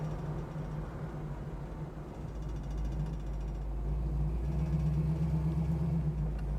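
A 1965 Chevrolet Nova SS with a 327 engine idles steadily at a red light, a low continuous rumble with a slight lumpy pulse heard from inside the car.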